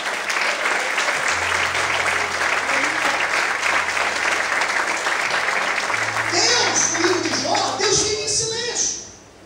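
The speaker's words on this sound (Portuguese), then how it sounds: "Quantos podem aplaudir o Senhor nessa noite?" A church congregation applauds the Lord during a Portuguese-language evening service, steady crowd clapping with some low tonal music beneath, tapering off at the end as voices come in.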